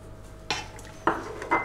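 A spoon works through pasta with olive oil and parmesan for roasted-camembert pasta, giving three distinct scraping clinks against the pot over a quiet background.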